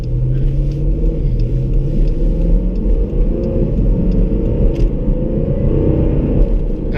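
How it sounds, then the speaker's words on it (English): A high-performance car engine drones with a heavy, steady low rumble from inside the car as it pulls out, its pitch rising slightly under continuous load. "I know this car sounds kind of crazy"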